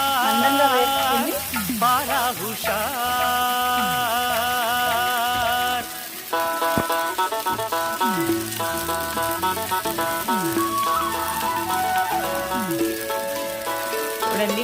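Oil sizzles in a clay pan on the stove, a continuous crackling hiss heard under loud, steady background music.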